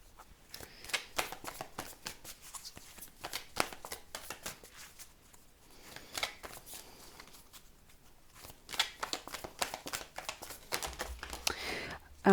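Tarot cards are shuffled in soft, uneven riffles and flicks, close and quiet, with faint low voices underneath.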